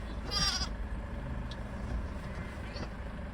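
A ewe bleats once clearly during lambing, close by, then a fainter call follows over steady low background rumble.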